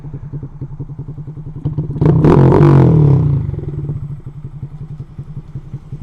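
A loud Honda Grom with a big bore kit, cam and near straight-piped exhaust idles with a rapid, popping exhaust thump, then revs up sharply to a roaring blast before dropping back to its chugging idle.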